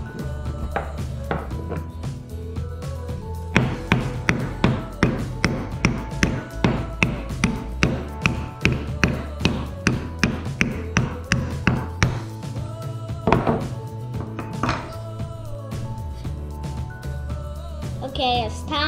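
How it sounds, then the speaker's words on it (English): A hammer drives nails into a wooden build-and-grow castle kit, a close, steady run of sharp taps and knocks in quick succession with short pauses, and people talking faintly beneath at times. "This time I'm only going to be hammering two nails"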